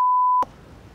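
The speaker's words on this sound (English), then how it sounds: "Beep it out every time I say rugby?" Censor beep: a single clean, steady electronic tone lasting under half a second, loud and alone, cutting off abruptly into quiet room hiss.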